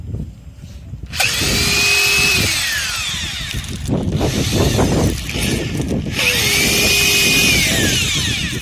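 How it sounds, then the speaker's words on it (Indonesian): A power drill whines loudly in two long bursts, its pitch rising and falling as it bores through a wooden board, with a pause of clattering between. "Ini bor"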